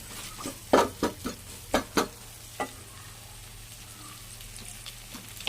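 Capsicum and curry leaves frying in a pan for capsicum and egg curry, a soft low sizzle punctuated by a burst of crisp spoon clatters and scrapes early on, then quieter frying.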